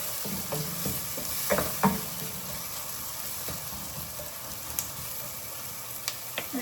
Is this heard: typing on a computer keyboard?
no